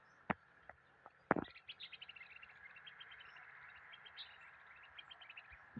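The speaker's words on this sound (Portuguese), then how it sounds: "Galo e os pássaros cantando, que coisa linda." Birds chirping and tweeting at 5:30 dawn in the sertão countryside, a quick run of bright repeated calls over a quiet background, with a few sharp knocks near the start; the rooster is not clearly distinct.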